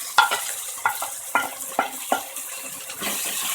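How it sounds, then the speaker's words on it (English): Tomatoes and green chilies for dal khichdi are stirred as they fry in a pan. A handful of quick scraping strokes sound over a light, moist sizzle, close up and moderately loud, with no speech. "Give it a nice mix."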